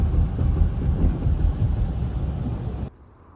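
Heavy pouring rain drums steadily on a car during a drive in traffic, a dense, loud rumbling wash heard from inside that cuts off abruptly near the end.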